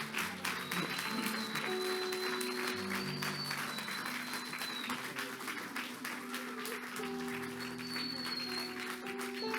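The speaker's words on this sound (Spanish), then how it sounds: "démosle fuerte esas palmas al Señor" A congregation at Ministerios Ebenezer in West Palm Beach claps steadily and fairly quietly through the whole stretch, over sustained organ or keyboard tones and faint background voices.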